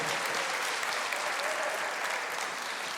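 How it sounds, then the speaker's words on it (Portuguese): A church congregation applauds steadily and loudly, a dense continuous wash of clapping with no pauses throughout. "pode aplaudir, está com vontade,"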